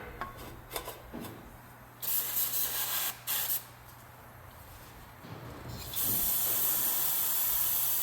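Throttle body cleaner sprays onto a truck engine long parked for years, in several short hissing bursts and then one longer continuous blast at the end, close and fairly quiet overall.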